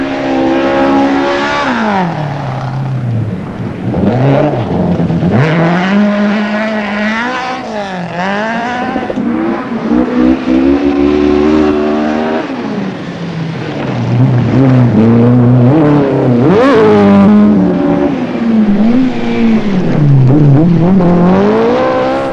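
A Ford Mark II Escort rally car with a Cosworth BDA engine screams through repeated rises and falls in revs, loud and close throughout, with sharp gear changes and no talk.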